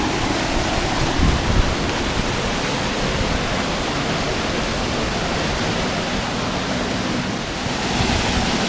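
A waterfall at the Seven Sacred Pools near Hana, draining toward the ocean, roars as a loud, steady broadband rush of water that fills the whole stretch with no talk over it.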